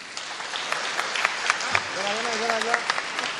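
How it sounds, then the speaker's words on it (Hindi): Applause from a mushaira audience at a Bhiwandi poetry book-launch evening, a dense crackle of clapping across the whole stretch with a voice briefly sounding over it near the end. "एक बार जोरदार तालियां।"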